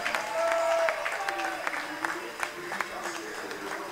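Arena applause for the home hockey side rolls on through the break of a tied playoff final, a fairly even spread of clapping that softens slightly toward the end, with a voice speaking over it.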